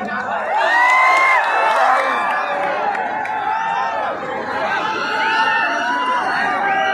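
A crowd at an outdoor Sunday fun day in Old City Hyderabad near the Charminar cheers a poet being called up, with loud whoops and shouts rising and falling over a steady, dense chatter of voices.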